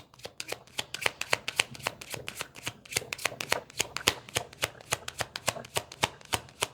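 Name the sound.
shuffling a deck of tarot cards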